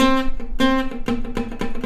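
An electric guitar plays a quick rhythmic run of about seven plucked notes, some with a muted, fingertip-damped attack where the string is touched but not pressed down, heard close with no talking.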